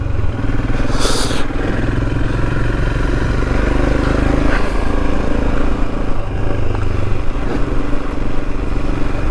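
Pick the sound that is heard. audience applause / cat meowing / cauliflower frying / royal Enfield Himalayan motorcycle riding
royal Enfield Himalayan motorcycle riding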